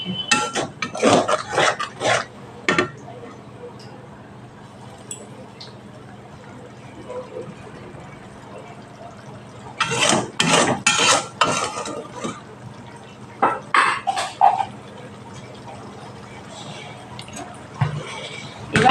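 A spoon scrapes and stirs spices in a pan on medium gas flame while chicken curry cooks, clattering in bursts between quieter stretches, with someone talking throughout.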